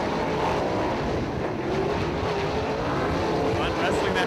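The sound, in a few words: 410 sprint cars racing on dirt track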